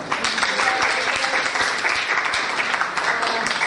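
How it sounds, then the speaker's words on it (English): A room of attendees at a Montessori workshop gives sustained applause for Mrs. Shahid after her lecture, a dense, even clatter of many hands throughout. "we all should give her a big round of applause"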